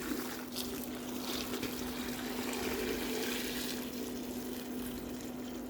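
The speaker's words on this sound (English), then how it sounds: "Let's add hot water." Hot water poured from a tap or kettle into a cooking pot holding lamb trotters and salt, a steady close rushing pour that runs unbroken throughout with a constant hum underneath.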